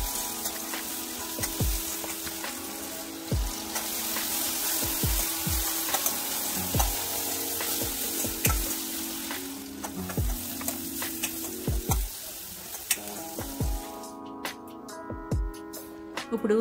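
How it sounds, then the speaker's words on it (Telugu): Sliced onions and green chilies frying in a pan, a steady loud sizzle with frequent clinks and scrapes of stirring, close and without voices. "ముందుగా సన్నగా తరిగి పెట్టుకున్న 2 ఉల్లిపాయలు అలాగే 4 పచ్చిమిర్చి ముక్కలు వేసుకున్న తర్వాత బాగా ఫ్రై చేసుకోవాలండి"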